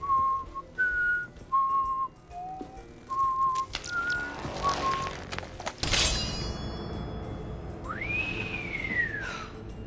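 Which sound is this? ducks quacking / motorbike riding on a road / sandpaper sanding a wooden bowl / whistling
whistling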